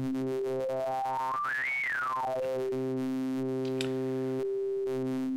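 A Halion 7 synth patch with oscillator sync as the waveform knob is turned, giving a buzzy tone whose bright resonant peak sweeps sharply up then back down over a steady drone, followed by short repeated held notes.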